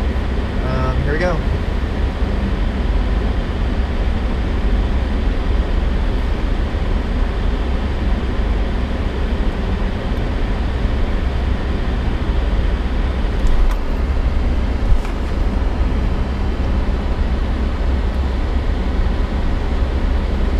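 An SUV cruises along a freeway, producing a continuous, loud low road-and-engine roar that stays steady throughout with only slight swells.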